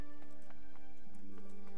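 Horse hooves clip-clop in the medieval video game Kingdom Come: Deliverance, a few light, evenly spaced taps sitting under a steady droning music bed.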